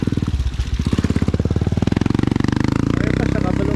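A close motorcycle engine chugs with a loud, rhythmic putter, its pulses quickening as it revs up and then holding a steady, fast beat.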